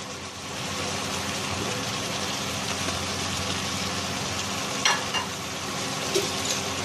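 Steady broadband sizzle of Thai eggplant frying in a pan with spicy catfish stir-fry, continuous and close, with a couple of brief clinks near the end and no talking.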